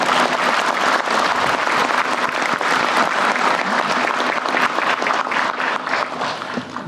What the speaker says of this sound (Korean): 박수도 한번 치워주세요.